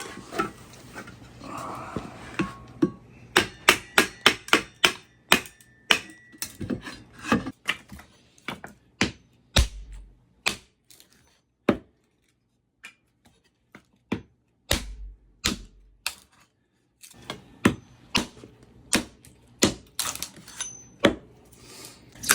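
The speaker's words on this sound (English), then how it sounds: "Even though Matt used the kindling splitter, he's just going back with an axe and making the pieces smaller" Sharp wooden knocks and splitting cracks as kindling for a woodstove is chopped smaller with an axe after a kindling splitter, irregular close strikes in clusters with quiet gaps between.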